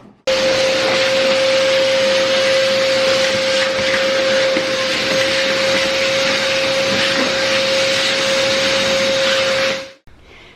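A vacuum cleaner runs steadily and loudly with a constant whine over broadband airflow hiss, in an old 1925 house kitchen being cleaned of mud, then cuts off abruptly near the end.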